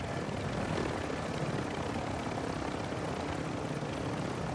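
Helicopter engine in a multiplayer video game, a continuous, even rotor and engine roar heard from inside the aircraft, steady and moderately loud throughout with no speech.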